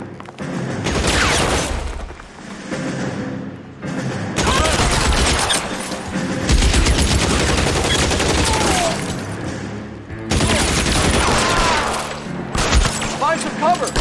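A heavy gunfight in the video game L.A. Noire: sustained bursts of gunfire and loud shots crackle almost nonstop, with brief lulls between volleys.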